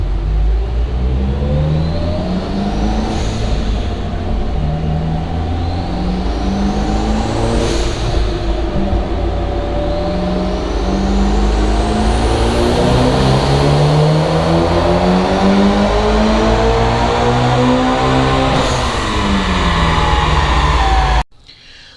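A Mitsubishi Evo 9 on a dyno on E85 fuel runs at wide open throttle. The engine is loud and close, rising in pitch through repeated gear pulls with turbo whine and sharp shifts, then cuts off abruptly at the end.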